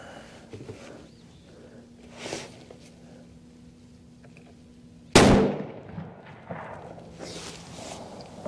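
A single sharp, loud blast from a Remington Ruger .30-06 rifle fired at a target on a farm range, sudden and close, surrounded by quiet outdoor shuffling and faint movement before and after.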